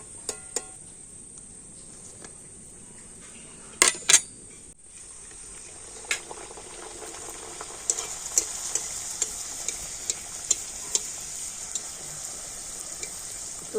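Luchi frying and puffing in hot oil, a steady close sizzle with sharp metallic clinks from the utensil early on, then a bright hissing crackle dotted with small pops.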